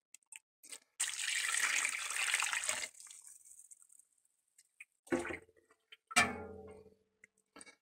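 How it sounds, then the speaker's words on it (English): Very hot whey poured from a pan onto mozzarella curds gives a steady, fairly loud rush of liquid for about two seconds, then a couple of short splashes and clinks. "So we're going to have to add more of the very hot whey"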